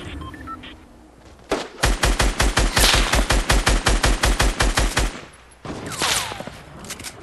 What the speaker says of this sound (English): We got shots from the right.